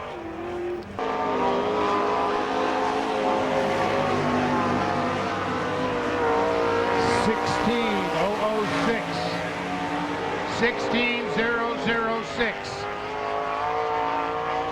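A sprint car runs a timed qualifying lap at Lernerville in Sarver, Pennsylvania, during an All Star Circuit of Champions event. Its engine roars loud and continuously, with rising and falling pitch sweeps, while an announcer talks over it.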